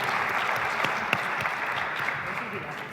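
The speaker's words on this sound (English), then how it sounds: "After they finish the applause." An audience at the MIT Battlecode 2016 final tournament applauds steadily with dense, continuous clapping that holds at an even level throughout, with no clear talk over it.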